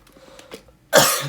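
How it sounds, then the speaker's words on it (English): A single sharp, loud cough bursts out near the end, after a stretch of faint murmuring, during an organic chemistry lecture. "I am coughing a lot."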